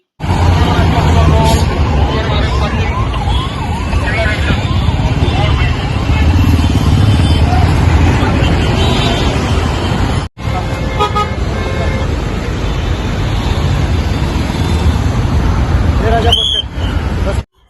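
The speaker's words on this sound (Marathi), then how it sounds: "मात्र या कार्यक्रमामुळे मोठ्या प्रमाणात वाहतूक कोंडी होताना दिसून येत आहे" Heavy traffic jam on the Sion–Panvel highway near a stadium during a concert: a dense, steady roar of cars and motorbikes with crowd babble, scattered honks and a sharp horn toot near the end, all loud and close.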